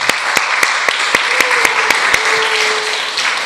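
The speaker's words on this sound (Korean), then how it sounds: "박수로 환영하겠습니다." Church congregation during a Sunday service applauding in welcome, loud close claps in a steady rhythmic beat over a softer crowd patter, with a brief sustained tone running underneath midway.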